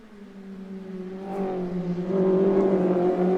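A Mini Challenge race car at Donington Park National accelerates down the main straight, its engine note a steady droning whine that rises in pitch and grows louder as it pulls through the gears.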